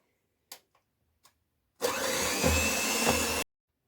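An electric mixer whirs steadily for about a second and a half, beating butter and sugar for Eid sablé cookie dough until creamy. A few small clicks come before it starts, and no one speaks.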